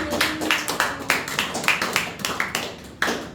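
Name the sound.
church congregation clapping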